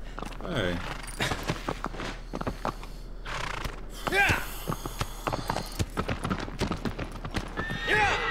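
A horse gallops with rapid clip-clop hoofbeats and lets out a whinny in Shadow of the Colossus Remastered, the hooves close and rhythmic while someone talks over the gameplay.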